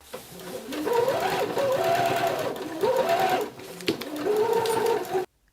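A sewing machine stitches the cuffs of a bomber jacket closed in quick, rattling bursts with a short pause in the middle, then stops abruptly at the end.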